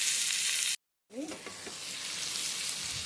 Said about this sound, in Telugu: ఆయిల్ వేసి కొంచెం ఫ్రై అయినాక ఇందులో టమాటా వేసేసేయండి.